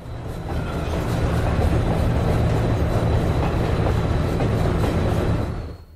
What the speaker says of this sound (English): we set up to see the grain train as it makes its way past the car shop